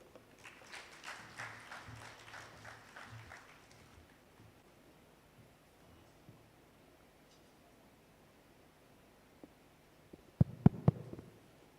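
Faint, thin applause from a small conference room audience at a Bank of Uganda suppliers' conference, a few scattered hands clapping for several seconds before trailing into near silence, later broken by a couple of sharp knocks.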